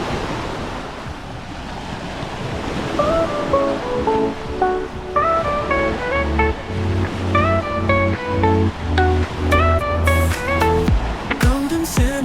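Ocean surf on Tsilivi beach, Zakynthos, Greece, a steady wash of waves and wind buffeting the microphone, with a melodic music track playing over it.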